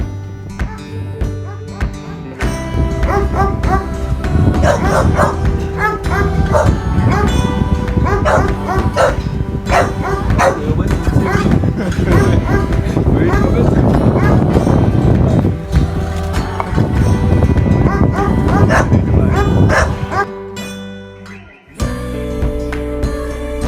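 Dogs bark repeatedly near a river during a kayak and canoe trip, loud, close yips and barks in irregular bursts over a steady background rumble, with a brief drop near the end.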